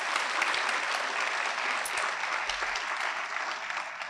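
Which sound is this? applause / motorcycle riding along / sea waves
applause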